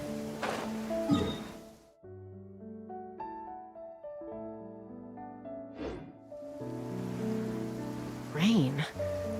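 Steady rain in Genshin Impact gives a soft broadband hiss under melodic game music, with a couple of brief whooshing sweeps and a short voice sound near the start and end.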